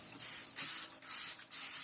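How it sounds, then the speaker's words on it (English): Neem oil sprayed from a hand spray bottle onto the bare roots of an anthurium, four crisp hissing bursts in a steady rhythm, close and fairly loud with short pauses between them. "now what I'm going to do is take my neem oil and I spray"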